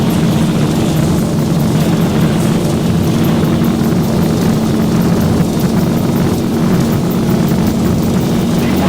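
Boeing 737 jet engines of the Zibo mod in X-Plane 12 at takeoff thrust: a steady, loud, continuous roar with a strong low drone and a broad hiss above it, unbroken throughout.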